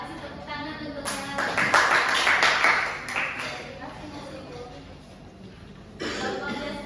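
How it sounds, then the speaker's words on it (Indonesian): A classroom group claps for classmates in a short burst of hand claps mixed with chatter, fading to voices before a second smaller round of clapping near the end. "kasih tepuk tangan untuknya"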